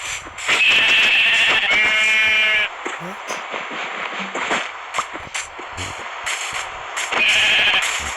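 Sheep bleat repeatedly in Minecraft, with loud, wavering cries near the start and end, over shuffling and clicking sounds.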